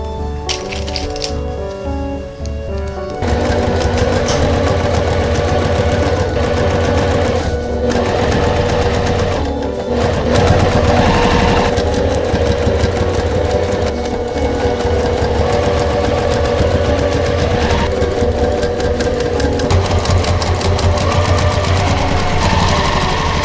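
A sewing machine runs steadily for a long stretch while stitching a puff jacket, giving a loud, close, continuous mechanical whir with fast rhythmic chatter and a brief slower start.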